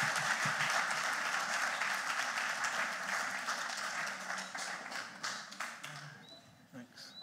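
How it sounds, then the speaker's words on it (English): A lecture audience in a Barbados museum applauds, a full, steady round of clapping that slowly thins and fades toward the end, with a few scattered claps remaining. "I think he deserves another round of applause."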